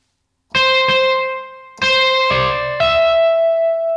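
Electric guitar through an amp simulator with a mountain reverb effect, four bright distorted chords or notes struck in turn, each ringing out long with a spacious, lingering reverb tail, loud and alone.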